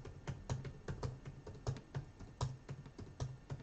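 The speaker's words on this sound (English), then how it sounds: "And I'm just keep on typing" Fingers type steadily on a computer keyboard, close and fairly quiet, with irregular rapid clicks and taps continuing throughout, no voices.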